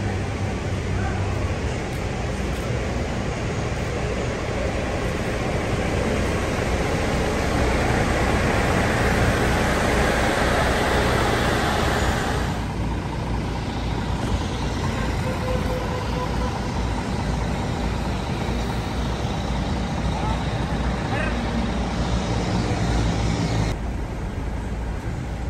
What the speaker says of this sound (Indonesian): Ini teman-teman, dengerin suara mesinnya AC ya.